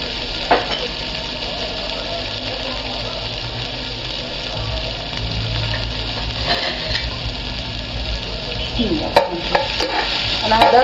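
Onion for Egyptian moussaka fries in hot oil with a steady bright sizzle, stirred now and then with utensil scrapes and clinks toward the end.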